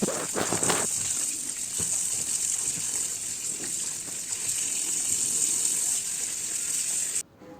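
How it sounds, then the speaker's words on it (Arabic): Water gushing steadily from a kitchen tap as potatoes are rinsed under it, a loud continuous splashing stream with a few brief knocks early on, cutting off abruptly at the end. "تحت الحنفية"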